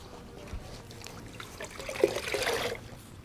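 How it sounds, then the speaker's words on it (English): Water trickles and pours into concrete repair mix, a soft splashing wash that builds over the last second and a half, with faint scraping near the start and no talk. "Add a little bit more water."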